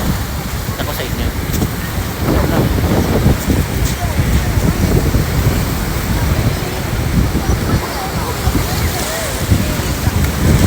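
Strong wind buffets the microphone at Ya Nui Beach in Phuket, Thailand, over a steady roar of surf breaking nearby. The sound is loud and continuous for the whole stretch.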